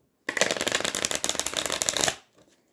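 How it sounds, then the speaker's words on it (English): A deck of playing cards is rifle shuffled, giving about two seconds of rapid, close-up fluttering clicks that stop abruptly, followed by a soft settling tap. "I've learned it as the rifle shuffle because the sound is like it's rifling."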